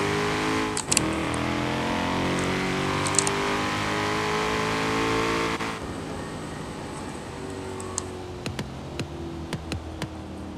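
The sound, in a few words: sports car exhaust popping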